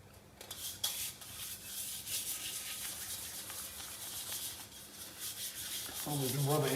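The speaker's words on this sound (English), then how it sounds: "I always been rub it in circles myself. Really work it in there." Protective product is rubbed into a fishing and camping car trailer in circular strokes, a soft continuous scrubbing rasp heard close, ending with a brief voice at the end.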